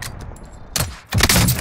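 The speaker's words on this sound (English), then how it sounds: "They getting shot again." Bursts of gunfire from a multiplayer shooter game crack out close and loud, a short volley followed after a brief pause by a denser, sustained spray of shots.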